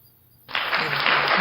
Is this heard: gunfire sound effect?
no